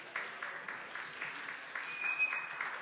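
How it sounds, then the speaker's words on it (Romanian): An audience at the 2018 Casino Life & Business Magazine awards gala applauds with soft, fairly distant clapping that swells in gentle waves and keeps going without a break. "aplaudați prea tare"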